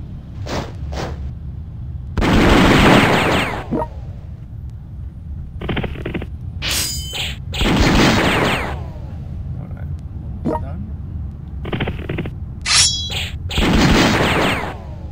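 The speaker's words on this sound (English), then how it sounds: "Heavy artillery." Heavy artillery fire in the European War 6 strategy game during the Battle of Jena, with repeated booming blasts and whooshing impacts arriving in bursts roughly every few seconds over a low rumbling battle bed.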